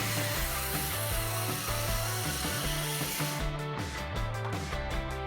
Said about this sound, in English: And with a circular saw, I just went over it with several passes.